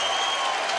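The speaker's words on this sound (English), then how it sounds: "The crowd is going absolutely bananas." A skateboarding contest crowd at a world championship final in Los Angeles roars with dense, steady cheering and applause that stays loud and continuous throughout the brief moment.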